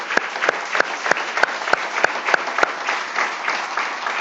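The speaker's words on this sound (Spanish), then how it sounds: "démosle aplauso al Señor." A church congregation at a Spanish-language service claps together, steady dense applause with sharp rhythmic beats standing out, filling the room for a few seconds.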